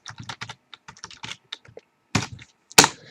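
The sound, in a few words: typing code on a computer keyboard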